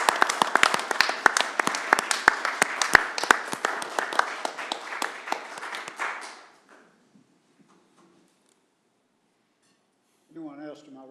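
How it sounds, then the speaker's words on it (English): Applause for Andy Davis rings out at a city commission meeting in Rome, Georgia, a dense burst of clapping with sharp individual claps lasting about six seconds before dying away into near silence, followed by a brief voice. "I'd like to applaud you for your service"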